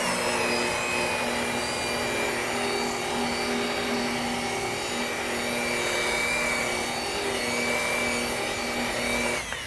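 Machine polisher running over hard car clear coat, spreading polish in a steady, continuous whine with a constant motor drone throughout and no speech.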